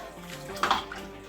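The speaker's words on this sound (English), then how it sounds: "So I've added more water." Water poured into a pot of cow feet pepper soup, a brief splashing burst in the middle of the clip over a steady background hum, close and moderately loud.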